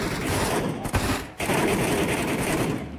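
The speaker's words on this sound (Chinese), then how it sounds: "开枪吸引一下" Rapid bursts of video-game gunfire, loud and close, with a brief pause near the one-second mark before continuous shooting resumes.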